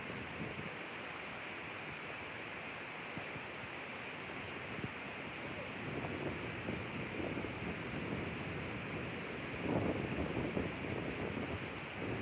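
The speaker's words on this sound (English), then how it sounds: "A little windy today, nice breeze." A faint, steady outdoor breeze rustles past the microphone on a residential street in Angeles City. It swells slightly in gusts toward the end, with no talk.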